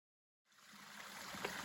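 A small stream of water beside the Appalachian Trail near Low Gap in Georgia, a soft steady trickling rush that begins abruptly after a moment of silence and continues faintly.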